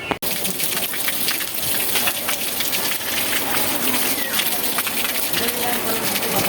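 Mountain-fed water runs without pause through an outdoor bathing area used for rinsing after sea swimming at Real, Quezon, a loud, steady rain-like patter and splash that fills the whole clip.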